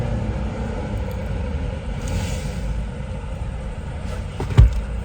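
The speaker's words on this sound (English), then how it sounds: "Obviously, it's a big truck." A low, steady vehicle rumble drones nearby, like a heavy truck going by, ending with a brief thump.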